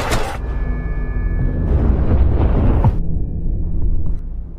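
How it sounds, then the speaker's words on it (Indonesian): A big explosion in a film scene at a power plant, a loud broad rumbling blast that swells and roars for several seconds before dropping to a lower lingering rumble. "menyebabkan sebuah ledakan besar pun akhirnya terjadi"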